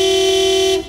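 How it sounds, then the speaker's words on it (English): A single loud cartoon car horn honk in a traffic jam, held for nearly a second, close by, then cut off abruptly. "Beeping won't make the cars go any faster, Daddy Pig."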